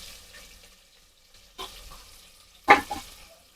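Onions for ghee rice dropped into a hot pan, giving a faint sizzle that jumps into two quick, louder frying bursts with stirring, then settles to a soft crackle.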